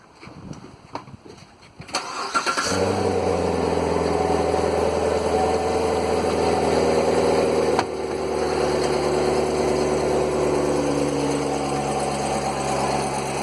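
A car engine cranks and catches after a couple of seconds of quiet, then settles into a steady, fairly loud idle hum that runs on unbroken, with a brief dip partway through.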